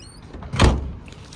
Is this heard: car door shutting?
yes